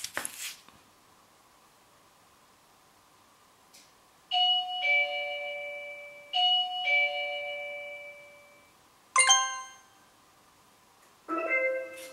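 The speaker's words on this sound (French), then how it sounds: "j'allume la prise 5 secondes, je coupe la prise et du coup j'ai la sonnette, le ding-dong ding-dong" A street doorbell rings out a ding-dong chime twice in a row, then a brighter chime and another tone follow, clear and close against quiet background hum.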